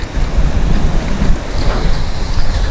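Cold wind buffets the shore at Runswick Bay while waves wash on the beach, a steady loud roar of wind noise and surf with no pauses.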